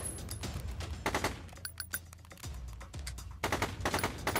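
Handgun fire in the mobile tactical shooter Boom Hero, several sharp shots in quick bursts with brief gaps between them, loud and close.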